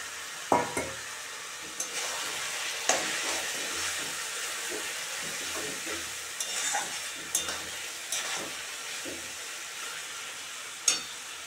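Rohu fish roe beaten with a little oil sizzles steadily in a pan, a continuous frying hiss broken by occasional louder crackles and stirring scrapes.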